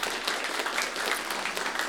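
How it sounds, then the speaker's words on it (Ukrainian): Audience applause at a live improv comedy show, a steady wash of many hands clapping together for two seconds at moderate distance, fairly soft with no talk over it. "Дайте Володимиру трошки оплесків"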